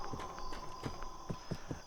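Horse hooves clip-clop at a steady walking rhythm in the Western video game Westbound, faint and even over a constant background hum.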